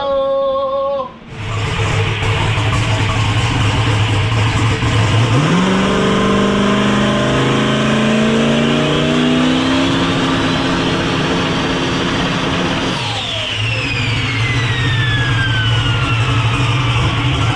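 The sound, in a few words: turbo LS Foxbody drag car engine revving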